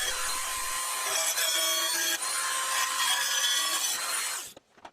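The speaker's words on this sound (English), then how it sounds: "I took a Dremel and cut out a square for the AC socket to fit into" Dremel rotary tool cutting a square opening for an AC socket on a robot arm part, a steady high-pitched grinding whine held for about four seconds before stopping abruptly.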